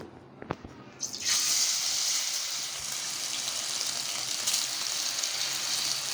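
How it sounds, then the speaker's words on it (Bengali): Thin marinated chicken strips hit a hot wok, a couple of sharp knocks then a sudden loud, close sizzle that holds steady and bright for several seconds. "এভাবে আমি 2-3 মিনিট ভাজবো"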